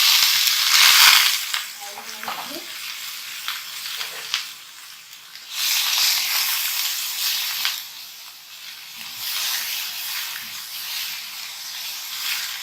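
Finely chopped onion fries in a pan over a low flame, a loud close sizzle that rises and falls in waves as it is stirred, with a few scraping stirs and no voices.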